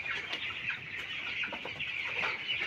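Broiler chickens on a poultry farm, a continuous faint chorus of soft clucks and chatter from many birds, with no voices.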